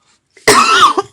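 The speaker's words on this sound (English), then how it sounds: "I might need water with that cough going on." A single sharp cough bursts out close to the microphone, short and loud against near silence, with a small trailing catch at the end.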